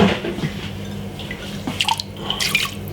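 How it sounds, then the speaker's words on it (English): Water runs and splashes from a kitchen tap as a cup is rinsed, with dripping and a few small clinks, fairly close. "I'm just gonna rinse out my cup."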